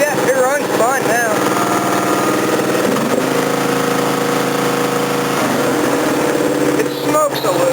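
A Craftsman DYT 4000 lawn tractor engine, recently fitted with a new spark plug and smoking slightly, runs at a steady close idle throughout, with a brief voice near the start.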